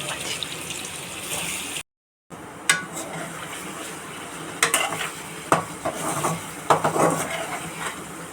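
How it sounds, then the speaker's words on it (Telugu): Paneer pieces frying in oil in a kadai, a steady close sizzle broken by clinks and scrapes of a spatula or spoon stirring against the pan. "పన్నీర్ మంచి గోల్డెన్ ఫ్రైకి రావాలి. పన్నీర్ ఇట్లా ఫ్రై కావాలి."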